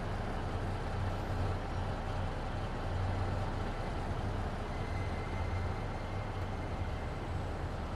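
Caterpillar diesel engine of a heavy truck in American Truck Simulator hauling double 48-foot trailers, a steady low rumbling drone with a pulsing throb, loud and continuous with no talking.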